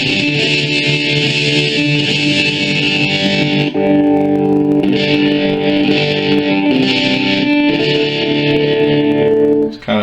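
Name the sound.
guitar through Boss ME-50 multi effects pedal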